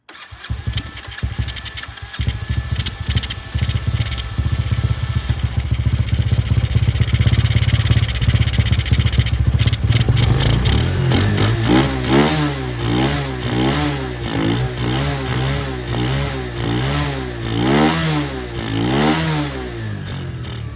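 A Venom X22 125cc motorcycle engine fitted with a Nibbi race carburetor runs close and loud throughout, sputtering roughly at first, then settling into a fluctuating idle with rhythmic surges and dips in revs.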